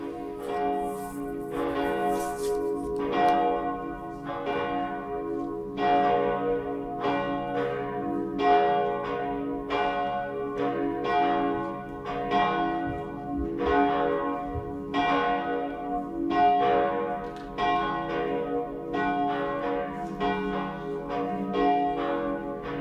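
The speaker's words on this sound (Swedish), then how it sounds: "Då får vi lyssna på klockringningen." Cathedral church bells ring in a steady, overlapping peal during a Sunday high mass, the loud strikes repeating rhythmically and sustaining throughout with no voices.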